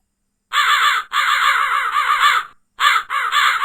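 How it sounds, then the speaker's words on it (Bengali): A flock of house crows caws loudly and harshly in close, overlapping bursts, with two short gaps between the runs of calls. "শহরের পাতি কাক ডাকে ঝাঁকে ঝাঁকে"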